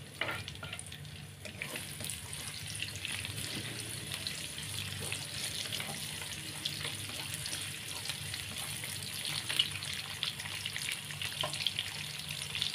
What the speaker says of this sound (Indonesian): Kita panaskan minyak secukupnya buat menumis bumbunya. Kita goreng dulu bawang merahnya ya.